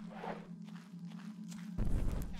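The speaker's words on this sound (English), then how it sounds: "I hear footsteps" Footsteps sound in the horror game Forewarned, a few soft muffled steps over a low steady hum, getting heavier and closer toward the end.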